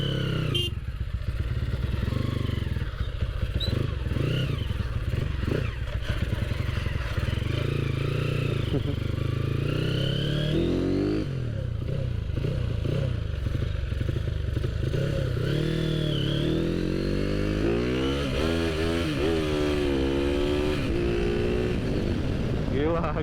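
A Honda CB Tiger motorcycle fitted with a 300cc MX block engine runs with a deep, bassy, loud exhaust note, revving and pulling through gears with rising and falling pitch across the whole stretch.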